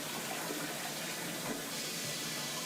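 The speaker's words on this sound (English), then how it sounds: "The toilet flushed." A toilet flushing, steady broadband rush of water running continuously at a moderate distance with no voices over it.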